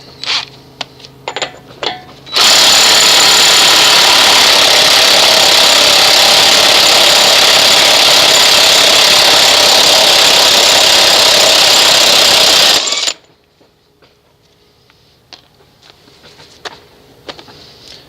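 Loud, steady buzzing whine of a power tool spinning off the axle nut on a 1989 Chevy K1500 Silverado truck with a 36mm socket, running about ten seconds after quiet shop noise, then cutting off abruptly.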